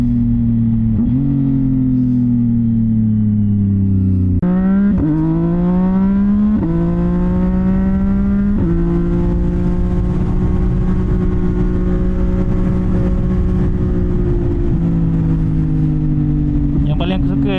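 A 2025 CFMOTO 675 NK motorcycle with an aftermarket exhaust revs close by in repeated rising blips that settle into a steady, throaty hold and then ease off, with no talk.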